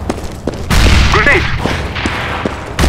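Grenade blast in CS:GO on the Dust2 map: a loud broad burst hits after scattered shots, decays over a second or so, with a voice briefly audible and further sharp shots following.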